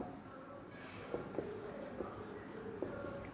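A pen scratches and taps on paper in short strokes, with a few sharper clicks as letters are formed, quiet and close against a faint room hiss.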